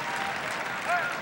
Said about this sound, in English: Crowd appreciates his effort.